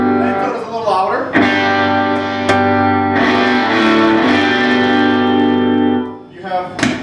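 A Vox guitar amplifier in triode mode in the Vox room at Musikmesse 2010 plays distorted chords with a lighter tone, sustained and ringing with a few sharp pick attacks, loud and close, while people talk at times over the playing.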